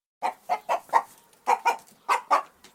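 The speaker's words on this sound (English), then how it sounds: "Chicken." A chicken clucks in a quick series of short, evenly spaced calls, about nine in all, close and clear against silence.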